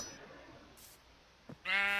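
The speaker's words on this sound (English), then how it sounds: "Here are all the sheared already sheep." A sheep bleats once in the Magicraft video game near the sheep pen, a clear harmonic call arriving at the end after a quiet stretch and a brief click.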